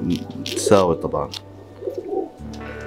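Pigeons coo in a loft with several pairs of birds kept for competition, a few soft low coos weaving under and between Arabic speech close by.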